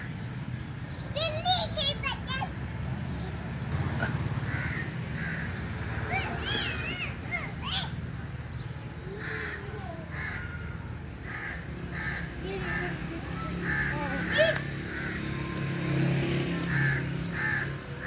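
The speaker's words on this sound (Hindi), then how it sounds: "सारे कौवे यहाँ पर बैठे हुए हैं।" Several crows caw repeatedly nearby in an outdoor spot, harsh calls recurring irregularly while people and children talk in the background.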